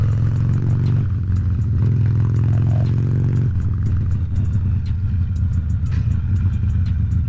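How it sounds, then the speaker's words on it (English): A 2010 Harley Davidson Nightster on loud exhausts rumbles up close with a heavy, throbbing note, rising briefly and then settling back to a choppy idle with rattling clicks. "if you can even hear it over those exhausts. Holy moly, they're loud"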